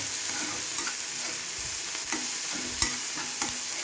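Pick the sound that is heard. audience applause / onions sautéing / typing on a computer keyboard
onions sautéing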